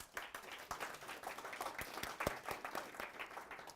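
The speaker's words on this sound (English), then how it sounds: "Can we get one more round of applause for AJ?" A tech meetup audience gives a round of applause for a speaker, a quiet crowd of distinct, scattered hand claps with uneven rhythm and occasional sharper claps rising above the rest.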